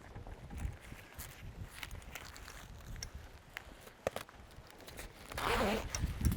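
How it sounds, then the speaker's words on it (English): A zipper on the canvas annex of a Signature Elite forward-fold camper trailer is drawn closed outdoors, a rough rasping run that swells louder near the end amid faint rustling and light wind. "connect it up to that zip there"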